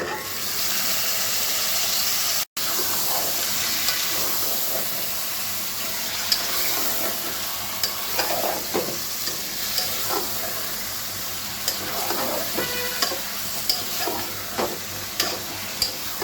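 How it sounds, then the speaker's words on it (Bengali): Washed beef pieces sizzle loudly in hot oil with half-fried onions, a continuous frying hiss broken by regular clinks and scrapes of a spoon stirring the pot. "হাফ ভাজা পেঁয়াজের মধ্যে আমি এখন এই যে মাংসগুলো ধুয়ে দিয়ে দিচ্ছি"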